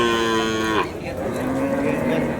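A calf at the Tiruvannamalai Deepam cattle market gives one loud, close moo that trails off, followed by the softer murmur of the busy livestock fair.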